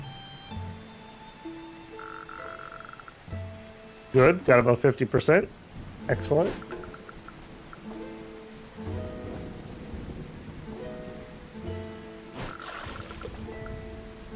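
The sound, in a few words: rain in the video game Dead in Vinland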